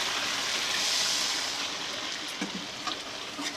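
Water is poured into a pan of cooked masala for fish curry, giving a close, steady splashing gush that eases off into a few small drips and bubbles.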